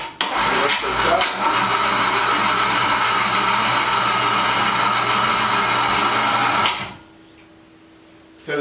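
A small electric winch motor runs steadily and loudly, hoisting heavy lumber up to the joists via a pulley, a continuous whirring drone for about seven seconds that cuts off abruptly, leaving a quiet hum behind.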